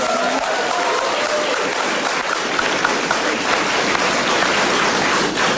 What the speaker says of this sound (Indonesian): Saya mau kita semua tepuk tangan dong buat Pak Ignatius.